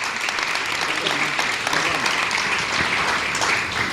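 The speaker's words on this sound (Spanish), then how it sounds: "Vamos a darle un aplauso a nuestros hermanos por este tiempo." A church congregation claps steadily in a sustained round of applause, fairly loud and even, with faint voices mixed beneath it.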